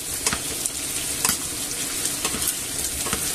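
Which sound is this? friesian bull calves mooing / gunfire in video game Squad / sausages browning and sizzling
sausages browning and sizzling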